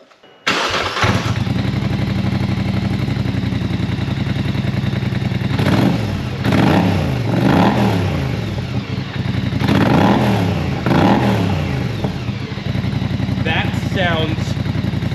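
A Polaris Sportsman 850 or 1000 ATV fitted with an RPM SXS exhaust starts up and idles with a loud, close rumble, then is revved in several sharp bursts before settling back.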